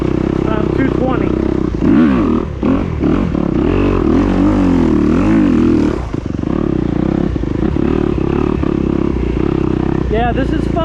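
A 2021 Kawasaki KX250X dirt bike is ridden on a home motocross track. The engine is loud and close the whole time, revving up and down and shifting pitch as the rider works the throttle.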